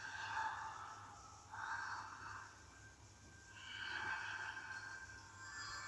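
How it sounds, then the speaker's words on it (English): Heavy, slow breathing from a TV show scene comes in faint, drawn-out waves, roughly three rasping breaths with pauses between them. "it's the heavy breathing as well"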